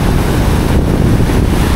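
Floodwater of the Moola Vaagu stream at Vemulawada surges strongly under pressure after coming down from a bridge, making a steady, loud, close broadband roar of rushing water with no pauses and no voices.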